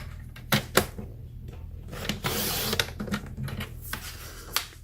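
Stampin' Trimmer slicing a 12 by 12 sheet of designer paper, with sharp clicks and taps as the paper is lined up, then a longer scraping swipe of the blade, close up.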